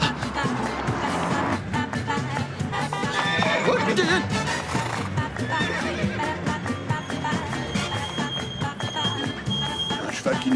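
A horse whinnies loudly up front, then hooves clatter in a quick clip-clop rhythm alongside shouting voices and a high tonal whine.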